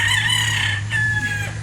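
A Sweater gamefowl rooster, about 18 to 20 months old, crows once, loud and close, in a long drawn-out call over a steady low hum.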